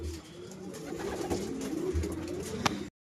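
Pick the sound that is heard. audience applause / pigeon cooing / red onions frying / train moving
pigeon cooing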